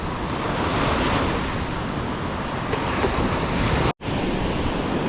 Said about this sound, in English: As those waves push in, that current does ease off a bit.